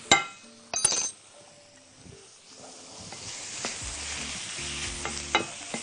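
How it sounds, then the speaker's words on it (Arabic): Yellow pepper and chicken stirred in a frying pan for a chicken pasta tagine, with a soft sizzle beneath scraping and a few clinks of a utensil against the pan, fairly quiet and close. "ندي التقليبة المحترمة،"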